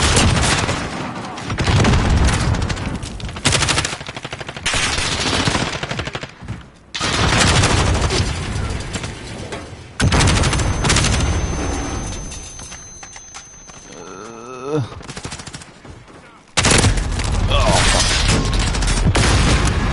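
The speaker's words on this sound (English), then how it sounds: "We are playing a game that involves shooting people." Automatic gunfire and explosions from the video game Call of Duty Modern Warfare rattle in loud bursts separated by brief lulls, with game sounds and a voice underneath.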